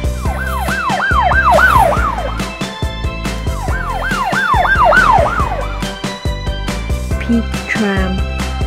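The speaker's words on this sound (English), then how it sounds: "Police car." A loud, close police car siren sweeping rapidly up and down in repeated bursts, with a heavy engine rumble and other electronic tones mixed in.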